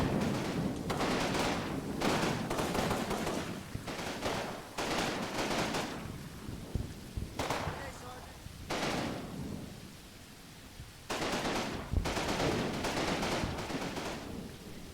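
Gunfire in the Combat Mission: Battle for Normandy video game comes in long, rumbling bursts of sustained automatic fire, with brief lulls between volleys, heard at a moderate distance.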